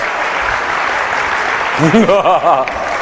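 An audience at a public speaking event applauds steadily, and partway through a voice talks loudly over the clapping, with a burst of chuckling.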